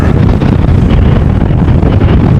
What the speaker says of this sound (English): or at least it's getting a little bit more gusty again